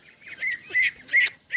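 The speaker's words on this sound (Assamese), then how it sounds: "আমাৰ বাবুৱে হাঁহ খেদিছে" A boy chasing ducks outdoors, with several loud nasal honks and quacks in quick bursts close by, repeating about every half second.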